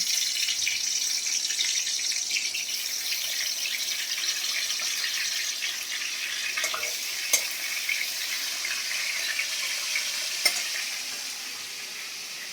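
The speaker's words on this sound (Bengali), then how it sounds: "ওখানে কড়ার তেল গরম হয়ে গেছে, এবারে কি করব, আমি মাছগুলো দিয়ে দেবো।" Shrimp fry in hot oil in a wok, producing a continuous, even sizzle broken by a few sharp clicks from stirring, with no talking.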